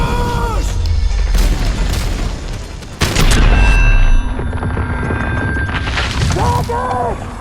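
Loud booming bouncing Betty mine explosions burst in quick succession amid chaotic video game battle noise in Modern Warfare 2, with sharp pops and crashes up close.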